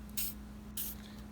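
Cleaner sprays onto parts of a High Standard Supermatic Citation pistol in two short, close hissing bursts over a faint steady hum.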